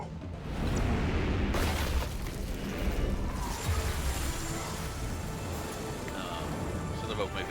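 A starship weapons salvo in the Star Trek: Resurgence game erupts as a sustained, loud rumbling barrage with booming blasts that roll on for several seconds, with no pauses.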